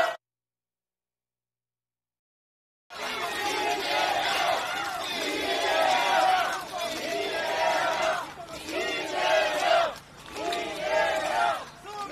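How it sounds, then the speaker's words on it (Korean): Crowd at an outdoor political election rally cheering and clapping to welcome a party leader, starting after about three seconds of silence and then swelling in loud, surging waves of shouts and applause. "환영의 큰 박수 부탁드립니다"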